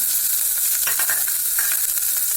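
Carrots and mixed vegetables sizzling in a hot pan, a steady bright frying hiss with a few soft stirring clatters, close and continuous.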